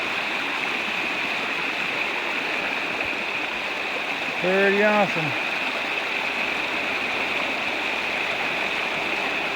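A small stream pours into the Rogue River with a steady, close rushing and gurgling wash that never lets up, and someone briefly speaks over it midway.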